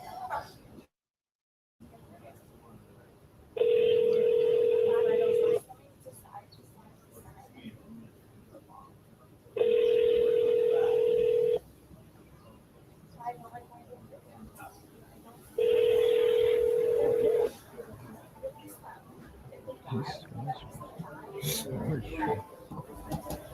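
Outgoing phone call ringing out unanswered: three long steady ring tones, each about two seconds, spaced evenly over faint background murmur and a voice talking between rings.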